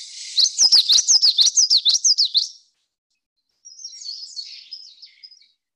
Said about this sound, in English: Common yellow throat does breed here. It is a warbler, and he tends to sound like witchetty